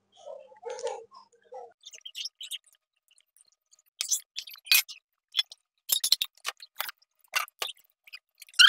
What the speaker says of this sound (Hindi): तो ये गर्मा गर्म मोदक मैं अब खा लेती हूँ